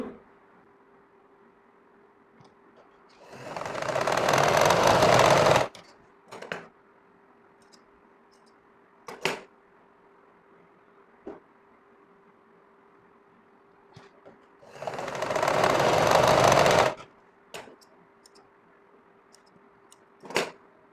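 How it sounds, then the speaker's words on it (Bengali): A sewing machine stitches thick rubber in two sustained runs of about two seconds each, separated by quiet stretches with a faint steady hum and a few isolated clicks. "এই প্রথম মেজারমেন্ট সেলাই দিয়ে দিচ্ছি"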